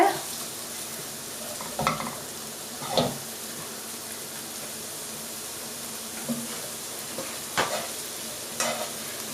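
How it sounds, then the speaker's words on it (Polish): Onions sizzle and fry in a pan with a steady crackling hiss, broken by occasional scraping stirs of a utensil. "Troszkę zeszklimy cebulkę."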